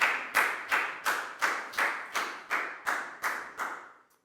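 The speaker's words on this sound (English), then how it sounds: "High five and a big round of applause for Lakau" Rhythmic clapping in a Year 4 maths classroom, about ten evenly spaced claps in unison applauding a student, crisp and fairly close, fading out at the end with no talking.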